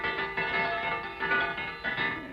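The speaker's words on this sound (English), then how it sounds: "got to tone that bell down" A ranch supper bell rings in a run of bright, ringing clangs that pulse every half second or so, loud and close, with no voices.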